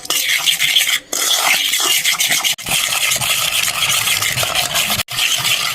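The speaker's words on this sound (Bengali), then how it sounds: "ঢেলে দিয়ে এটা ফেটে একদম ক্রিম মতো বানিয়ে নিতে হবে।" Powdered sugar and white oil are whisked into a cream in a bowl, fast rhythmic scraping and stirring strokes, loud and close, with a few brief pauses between bursts and no talk.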